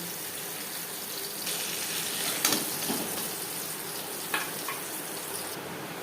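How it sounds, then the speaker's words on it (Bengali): Black cumin seeds (kalonji) hiss and crackle as they fry in hot oil left over from frying katla fish, a steady moderate sizzle with a few brief louder pops. "মাছ ভেজে নেওয়া তেলে দিয়ে দেবো কালো জিরে"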